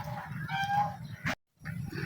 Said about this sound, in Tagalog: Nagbugaw ng mga manok.